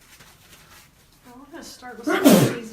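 A single close sneeze bursts out loudly near the end, following a few calm spoken words.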